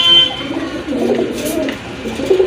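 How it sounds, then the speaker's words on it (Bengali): Pigeons in a pair kept for collection, the hen with bright red eyes and pink beak, coo steadily in low, rolling murmurs close by, with no talk over them. "এই যে দেখেন কতটা অ্যাক্টিভ কবুতরগুলো"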